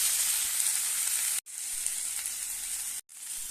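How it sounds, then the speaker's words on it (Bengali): Chopped tomatoes and coriander leaves fry in a pan with a bright, steady sizzle that cuts out twice for a moment before hissing again, with no voices over it. "এর মধ্যে কেটে রাখা টমেটোগুলো দিয়ে দেবো সামান্য ধনে পাতা কুচি দিয়ে এটাকে একটু ভালো করে হালকা হালকা করে ভেজে নেব"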